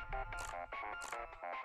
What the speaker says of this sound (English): What's that? A phone call?